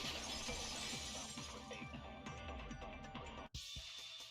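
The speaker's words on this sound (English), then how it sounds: "At the entrance hall, the girls heard the sound of the window shattering." Window glass shatters in a loud, sustained crash with tinkling fragments in Danganronpa 2: Goodbye Despair, then cuts off abruptly.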